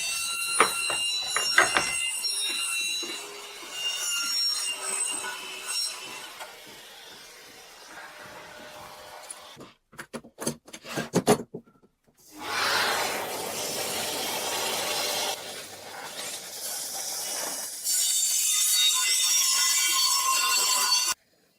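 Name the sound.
Evolution circular saw with multi-material blade cutting lengthwise along guide rail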